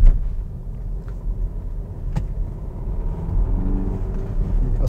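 BMW X1 accelerating in sport mode, a low engine rumble that builds steadily from inside the cabin, with a few faint clicks and a rising drone toward the end.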